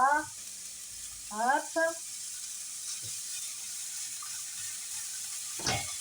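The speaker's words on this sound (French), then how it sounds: "je fais revenir un petit peu ma viande." Meat browning in half of a frying pan for a homemade chili con carne, giving a faint, steady sizzle throughout, broken by a few short bursts of nearby talk.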